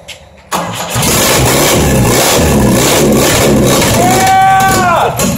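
A Paradise Duett engine catches and fires up after a squirt of fuel, bursting from near silence into a loud, sustained roar that keeps running with rough, uneven pulses and a rising whine toward the end.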